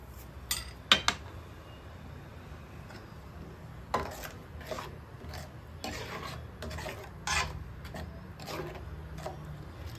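Salt goes into a fish curry, and a spoon scrapes and stirs against the pot in short, close rasping strokes, with a few clinks in between and quiet gaps.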